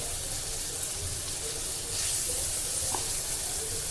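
Fish frying in a pan, Agri-style, gives a faint, steady, continuous hiss and sizzle with a few soft clinks, heard close and without talk.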